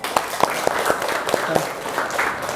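A small group of students clapping in a classroom lesson, with distinct claps in a loose, uneven rhythm over a noisy room background, fairly close and moderately loud.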